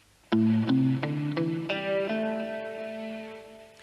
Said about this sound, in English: we talked about the pentatonic blues scale, one of the most versatile solo voices